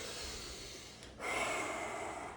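Someone breathes while foam rolling, a soft drawn-out breath followed by a sharper, louder exhale, close and with no talk.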